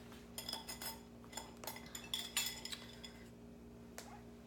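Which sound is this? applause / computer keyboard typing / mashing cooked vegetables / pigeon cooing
mashing cooked vegetables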